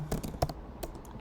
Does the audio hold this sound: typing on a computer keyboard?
yes